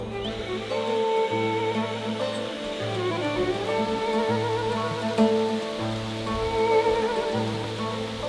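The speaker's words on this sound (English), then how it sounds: "The rain. I might have to take a break." Rain patters on surfaces at a log building site, a soft continuous spatter of drops under a repeating low mechanical hum, fairly close and steady with no speech.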